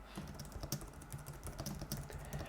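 Typing on a Logitech MX Keys Mini keyboard: a quick, steady run of soft, muted key taps, close and fairly quiet, with no voice.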